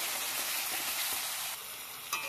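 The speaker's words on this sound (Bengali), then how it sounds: "সেটার মধ্যে একটু লবণ দিয়ে ভালো করে একটু কষিয়ে নিলাম।" Spices with salt stir-fry in hot oil, giving a dense, loud, unbroken sizzle up close with faint stirring underneath and no voices.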